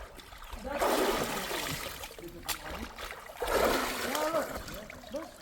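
Someone dips into a spring-fed bathing pool in Salalah, Oman, with two bursts of close splashing and sloshing water, broken by a short sharp knock, while a voice talks over the sound.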